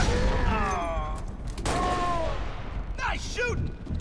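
Gunfire in the video game Halo: Reach, several loud close bursts of shots with game effects, while voices and chatter run over the firing.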